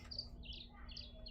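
A small bird sings from an outdoor wire in a handful of faint, high chirps spread across the moment, heard at a distance over a low background hum with no talking.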